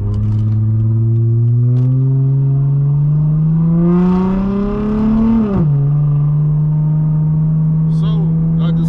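A car driving away from a car wash, its engine droning close and loud with a steady rising pitch as it speeds up, then dropping back to an even hum.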